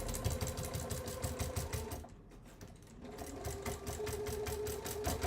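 A sewing machine stitches slowly through the thick, bulky gusset of a fabric bag, a steady mechanical whir with rapid needle pulses, pausing briefly midway before resuming at an even pace.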